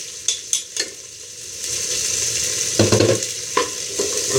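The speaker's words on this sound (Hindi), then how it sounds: "प्याज तकरीबन लाल होने में आ रही है, सेमी लाल हो प्याज।" Onions frying in a pan as they turn reddish, a steady close sizzle with several sharp clinks and scrapes of a stirring spoon, no voices.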